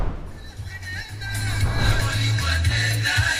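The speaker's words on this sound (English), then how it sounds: "It's a double-din audio system courtesy of Volkswagen," Music plays through a Volkswagen T5 Transporter double-din audio system, an upbeat track with a steady bass line and a bright upper layer, heard inside the van at moderate volume.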